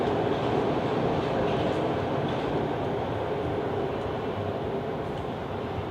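A train rolls past as a steady, loud, broad rumble of wagons on the rails, holding nearly even throughout before easing slightly at the end, with no clear voices over it.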